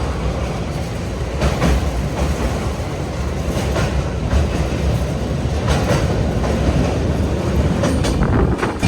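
Himsagar Express passenger train rolling steadily along the rails near Pathankot, a continuous loud rumble with rhythmic clickety-clack wheel beats and occasional metallic squeals, heard from inside or close to the carriages.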